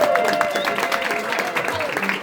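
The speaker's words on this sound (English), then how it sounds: "Let's give a round of applause for everyone." Applause from a community networking gathering fills the room for about two seconds, steady and moderately loud, with overlapping voices and cheering mixed through it.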